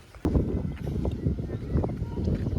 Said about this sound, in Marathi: वारा खूप भारी सुटला आहे.